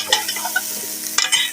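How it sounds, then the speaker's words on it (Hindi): Carrots sautéing in desi ghee inside a pressure cooker for gajar ka halwa, with a close, steady sizzle broken by sharp scraping strokes of a stirring spoon near the start and again toward the end. "3 मिनट तक हमने इनको देसी घी में भून लेना है।"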